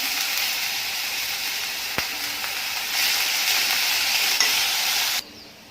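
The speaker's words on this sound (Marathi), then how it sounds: "तेल गरम झालेले आहे तर कोबी घालून घेणार आहे शिमला मिरची आणि मक्याचे दाणे" Cabbage, capsicum and corn kernels hit hot oil in a pan, giving a steady loud sizzle and hiss with stirring, a sharp clank near the start and a brief surge before the frying noise cuts off abruptly.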